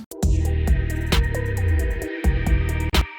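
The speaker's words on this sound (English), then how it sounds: "we also have that plugged synth theme that started in the previous section" Plucked synth theme layer in a B4NGB4NG!! production by Within Destruction, repeating short bright plucked notes over sustained low tones in a steady rhythm, loud and upfront with no voices.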